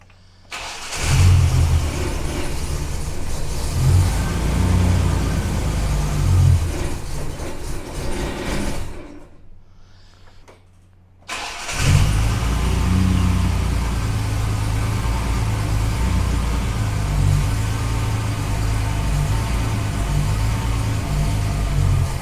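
A Nissan GQ Patrol fitted with a 350 Holley carburettor cranks over loudly and close, its starter churning in long sustained bursts, stopping for about two seconds, then cranking again at length without catching; no talk.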